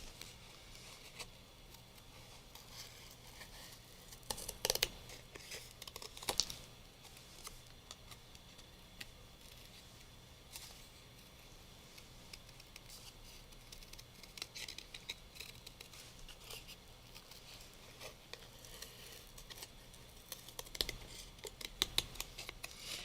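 Scissors cutting a shape out of paper, roughly following a black outline, with quiet irregular snips and clicks scattered through a long stretch, close and faint.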